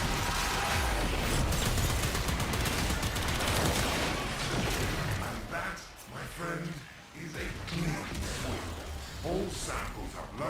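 Rapid gunfire from Warframe weapons rattles loudly and continuously at first, then thins into scattered shots and impacts while a voice talks over it.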